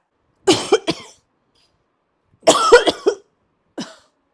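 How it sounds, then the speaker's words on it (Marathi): An older woman coughs in three separate bursts, a short double cough, then a longer rough fit, then a single cough, all close and clear against silence. "खोकला लागला की मला"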